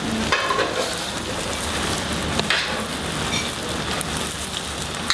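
Pad Thai noodles frying in a pan, a loud, dense, steady hiss and sizzle close by with a few sharper clicks, no voices.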